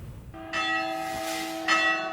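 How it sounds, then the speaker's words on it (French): A Protestant parish church bell rings near a town hall in the morning, with two clear resonant strikes whose long humming tone rings on between them. "la cloche de la paroisse protestante résonne"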